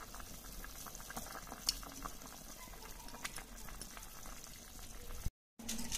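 Chicken with a spoonful of tomato paste simmers and bubbles in a pot, a steady close wash of boiling liquid with occasional stirring knocks and a brief dropout near the end.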